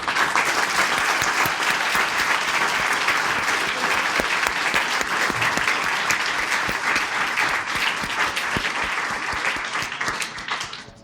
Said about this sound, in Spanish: vamos a brindarle un gran aplauso al doctor Lascano